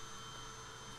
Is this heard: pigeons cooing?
no